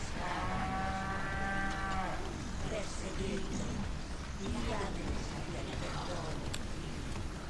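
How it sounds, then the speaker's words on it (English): A cow in Resident Evil 4 gives one long moo near the start, followed by rustling game ambience and scattered effects. "Oh, another cow."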